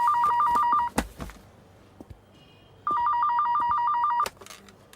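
A landline telephone rings in two trilling electronic bursts separated by a pause, loud and near, with a few soft clicks and thumps in the quiet gap.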